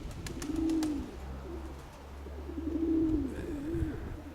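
Several soft, low pigeon coos from a keeper's pigeon flock, rising and falling in three separate bursts over a quiet, faintly noisy background.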